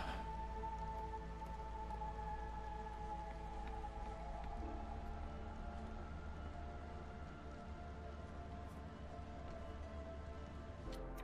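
Steady rain pours down through a storm in the video game Against the Storm, a continuous wash of droplets under sustained tonal game music, with no talking.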